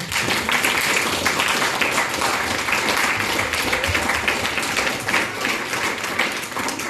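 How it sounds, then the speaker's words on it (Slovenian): At a Mother's Day event, an audience gives loud, dense applause after a performer's songs, a continuous close wash of clapping filling the whole stretch with little variation. "Jaz mislim, da si zasluži še en aplavz."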